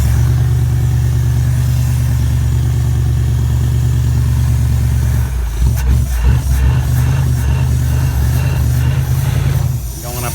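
A 1973 Ford Econoline camper van engine runs steadily with a deep, loud drone while climbing a hill, the pitch shifting and rumbling unevenly partway through as the load changes.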